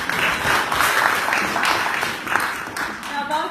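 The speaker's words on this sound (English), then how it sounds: "So a big round of applause, all of you, for making it here," Audience applause at a Jammu Kashmir Day gathering in the UK Parliament: loud, dense clapping from a room full of people, sustained and fairly even for the whole stretch, with no talking over it.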